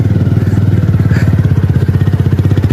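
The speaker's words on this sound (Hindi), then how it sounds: "ओ बाइक चलाना बहुत मुश्किल है यहाँ पर" A motorcycle engine labors as the bike rides over a sandy riverbank, a loud, close, rhythmic thumping pulse that holds steady throughout with no talking.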